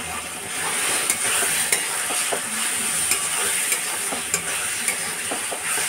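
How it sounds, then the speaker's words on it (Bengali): Onions and ginger fry in shallow oil for chicken kosha while a spoon stirs them, giving a steady close sizzle with regular scraping strokes about every half second. No one speaks. "পেঁয়াজটা অনেকটাই লাল হয়ে এসছে, তাই এবার আদা দেবো"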